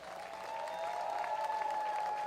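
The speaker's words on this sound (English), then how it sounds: "Let's clap it up for them." Audience applause at a statue unveiling outdoors, a steady wash of many hands clapping at moderate distance, continuing without pause and without voices on top.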